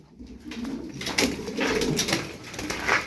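Pigeons coo softly and repeatedly in the background, low murmuring calls blending with a busy, noisy outdoor ambience.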